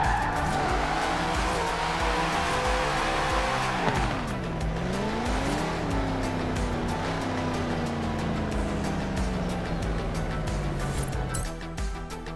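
A 1982 Lancia rally car racing in Forza Horizon 4: a loud, close engine revving through rising and falling gear changes, with tire squeal and skidding throughout.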